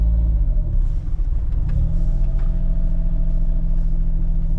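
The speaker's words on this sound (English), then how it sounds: "Even low speed operation like this, just crawling in first gear with no throttle" A car with an N1 ECU crawls in first gear with no throttle, its engine giving a steady, deep low rumble that holds close and continuous throughout with no revving.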